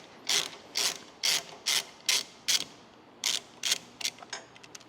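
A hand ratchet clicks out T45 bolts on a 2024 Harley-Davidson Road Glide, sounding as a run of about a dozen crisp, close ratcheting bursts in an even rhythm with a short pause midway.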